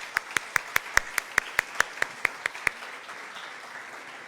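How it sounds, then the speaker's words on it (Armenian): An audience at a live singing-contest final claps for a performer in a crisp, even rhythm of sharp single beats, about five per second, that stops abruptly partway through and leaves quiet room tone. "ծափարենք Սերլին"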